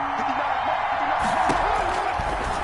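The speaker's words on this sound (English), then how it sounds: "Here comes a big one as this crowd gets out making some noise." A stadium crowd in a PS4 football video game sends up a steady, loud roar of cheering and noise, with a commentator's voice running over it.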